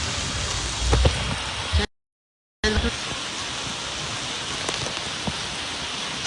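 Heavy rain pours down in Dwarka, a dense, loud, unbroken hiss with scattered drip impacts, briefly cut to silence midway before resuming just as strong.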